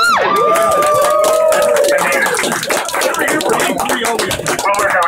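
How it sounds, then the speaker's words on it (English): Crowd in a rum bar at a Los Angeles Star Wars: The Old Republic community gathering clapping and cheering, loud and close, with whoops and shouted voices over scattered hand claps and lively chatter. "can we get a round of applause for someone who came from South Africa?"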